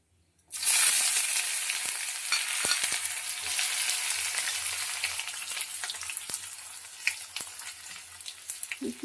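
Chopped onion and a torn bay leaf hit smoking-hot oil with a sudden loud burst of sizzling, which settles into a steady, slowly fading crackle with scattered pops.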